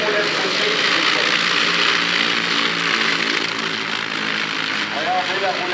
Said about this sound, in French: Ce que j'adore avec le Ju 52, c'est qu'on met la puissance, ça fait du bruit